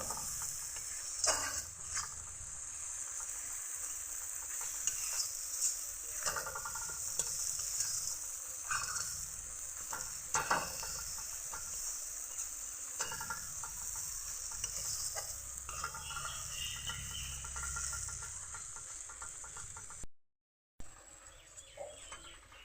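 Mustard paste fries with spices in a pan, a faint steady sizzle with occasional scraping stirs, with a short silent gap near the end.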